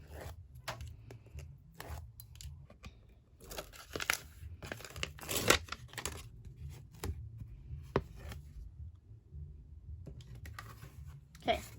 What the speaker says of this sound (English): I'm going to take this tape off